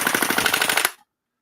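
An airsoft RPK with a drum magazine fires one rapid full-auto burst of close, evenly spaced cracks for under a second, then cuts off abruptly into silence.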